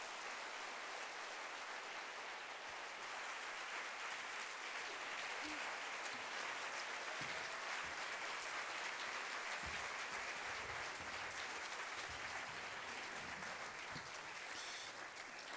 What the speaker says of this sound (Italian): Bell'applauso.